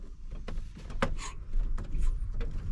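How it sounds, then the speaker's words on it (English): An automatic truck's cab door swings shut with a single close, solid thunk, set in a dull background rumble and some rustling. "Closing my door."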